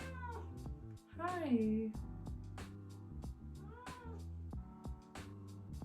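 A pet cat named Dandy meows loudly and drawn out, with a few shorter meows after, close by over background music while a person says a brief greeting.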